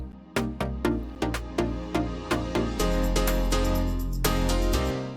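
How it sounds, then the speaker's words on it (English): Reversed piano sample playing in Ableton, a series of piano notes that swell up and cut off sharply at a steady pace, then a sustained chord that builds and ends abruptly, alone with no voices. "I've got this little reverse piano thing"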